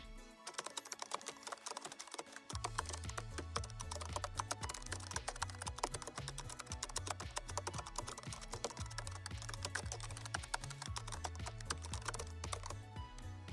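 Keys on a computer keyboard clatter in a fast, steady stream of close-up typing, with rapid clicks and a few key-combination presses while writing C++ code in the Arduino IDE.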